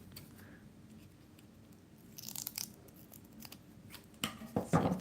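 Scissors snip through craft material close by in a quiet room, a few short crisp cuts at first, then a quicker cluster of louder snips at the end.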